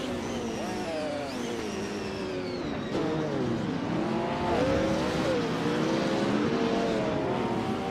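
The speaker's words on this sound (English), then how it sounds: "Hope you're ready for some exciting AI car races today." AI-driven race cars competing in a video game race, engines droning and whining continuously with shifting pitches as several cars run close together, under an overlaid voice.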